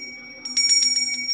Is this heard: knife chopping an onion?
no